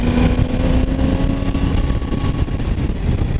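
A 2019 Triumph Tiger 800 XR, an 800 cc three-cylinder motorcycle, hums steadily and close while riding in sixth gear, the engine's mid tone holding even alongside rushing wind noise.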